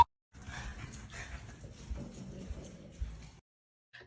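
A dog in a hallway reacts to a ghost Halloween decoration on a door, giving a few seconds of close, agitated whimpering and panting-like vocal noise that stops abruptly, followed by a faint brief sound.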